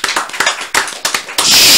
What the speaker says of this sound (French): un tonnerre d'applaudissements s'il vous plaît pour Kems